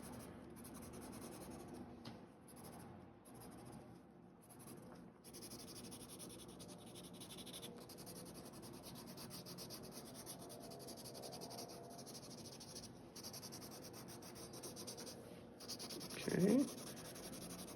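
Crayon scratching across paper in a journal, a soft continuous waxy rubbing with steady strokes, close and quiet, with a brief spoken word near the end.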